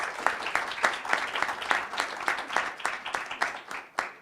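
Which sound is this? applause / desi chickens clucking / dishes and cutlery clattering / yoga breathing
applause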